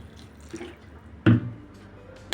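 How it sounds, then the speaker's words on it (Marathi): Water splashes into a pot of Malvani-style dry tender cashew curry with potatoes, a short burst of pouring and dribbling up close that ends as quickly as it starts. "त्याच्यामध्ये आपण आता पाणी टाकून घ्यायचं आहे"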